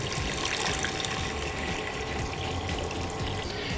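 Water runs steadily from a tap into a cooking pot for rice being prepared for artisanal gelato, a continuous close, loud splashing trickle with no talking.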